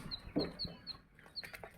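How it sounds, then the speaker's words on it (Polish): Silkie chickens and Chinese quails cluck and peep close by, with repeated short high chirps and a few soft low calls in a quiet pen. "Przepiórki chińskie się kłaniają i silki kurczaki."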